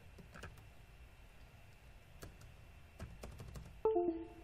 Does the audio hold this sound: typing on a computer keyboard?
yes